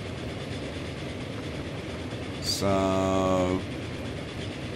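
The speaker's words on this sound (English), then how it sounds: "That is a locomotive" Train locomotive in the Transport Fever tycoon game rolling through a tunnel, a steady low rumble under a brief spoken word, then a louder harmonic engine drone swelling for about a second before fading back.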